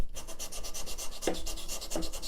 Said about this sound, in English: The first thing I'm going to do is take that burr off, making sure it's nice and flat